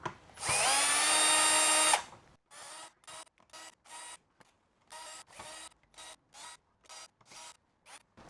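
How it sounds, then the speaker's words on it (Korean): A power screwdriver backs screws out of a YDS-150 casing: one long, loud whine comes first, then a string of short buzzing bursts with brief gaps between them, close and clear. "이쪽에 윗면에 있는 나사를 모두 풀어 주시고요."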